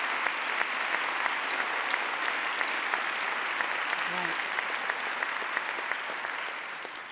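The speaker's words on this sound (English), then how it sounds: "let's give him another round of applause" Audience at a formal oration gives a long round of applause for the speaker, steady dense clapping with a few sharper individual claps, tapering slightly near the end.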